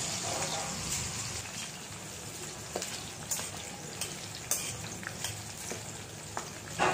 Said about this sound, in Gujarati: તેલ ગરમ થાય એટલે સૌથી પહેલાં તો આપણે ડુંગળી સાતળવા માટે ઉમેરીશું.